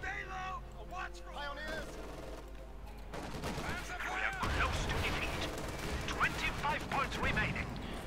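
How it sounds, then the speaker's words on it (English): Gunfire in the video game Company of Heroes 2 rattles in scattered bursts and volleys, fairly faint and running under a commentator's continuous talk. "Shots fired."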